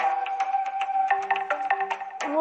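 A phone notification chime plays as a quick run of bright melodic electronic tones, several short notes in a row, fairly close and clear, with no talking over it.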